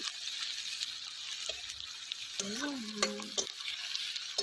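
Meat sizzles and fries steadily in turmeric over a clay wood stove outdoors, a constant crackling hiss with brief stirring scrapes and a few soft tonal noises midway.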